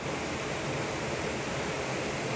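Chhoie waterfall in Baksyad Valley, Himachal Pradesh, roars as a steady, dense rush of falling water, loud and unbroken for the whole moment with no talk.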